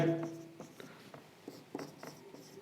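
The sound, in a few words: writing formula on board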